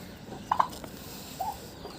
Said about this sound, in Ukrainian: Кохінхінка, це ж квочка бувша